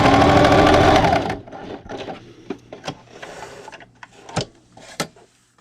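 A sewing machine backstitches the end of a seam on a fabric dinner plate cozy, starting with a loud rapid mechanical whir that stops after about a second, followed by quieter clicks and taps.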